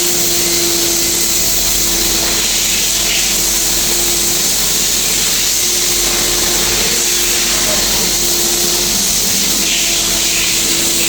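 A pressure washer sprays thick foam over a car at a wash: a loud, steady, unbroken hiss with a constant machine hum, while people talk faintly underneath.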